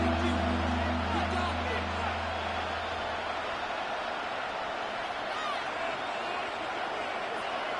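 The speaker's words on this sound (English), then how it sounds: "This crowd doing all they can." Broad, steady stadium crowd roar at a football game near the goal line, a dense wash of many voices filling the whole stretch without letting up.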